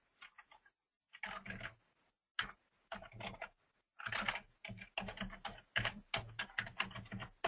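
Bursts of typing on a computer keyboard as a server name is entered, close crisp key clicks arriving in short irregular runs separated by brief pauses.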